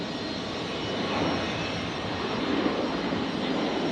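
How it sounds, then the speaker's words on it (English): Jetstar Airbus A321neo jet rotating on takeoff from runway 19 left at Brisbane International Airport at night, a steady, full engine roar that holds loud and even throughout with no talk. "Jetstar 969 on the roll, 19 left. The 321 Neo"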